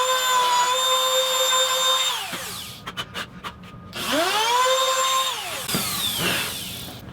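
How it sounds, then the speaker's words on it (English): Router fitted with a pattern bit hogging out a recess in wood against a template: a loud, steady high whine that drops in pitch under load, cuts out briefly amid a few sharp bursts, then spins back up. "using a pattern bit, I hogged out the space where the insert would go"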